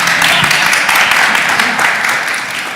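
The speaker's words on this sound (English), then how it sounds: "They're right there. I think they're applauding." A group of actors at Berlinale Talents applauds together, dense continuous clapping that is loud and close and stays steady throughout, with some voices mixed in.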